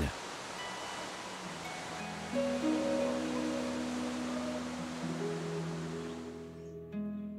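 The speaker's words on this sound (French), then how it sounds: "La gorge étroite du Wadi David aboutit à la cascade du roi David." King David's waterfall at the end of the narrow Wadi David gorge gives a steady, broad rushing roar, with a few sustained tones layered faintly over the water.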